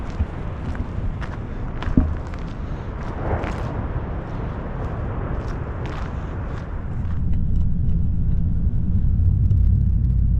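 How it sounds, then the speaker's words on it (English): A car drives through the city of Eureka, California, a steady close rumble of engine and road noise with a few light knocks, growing slightly louder and deeper toward the end. "Driving through the city of Eureka."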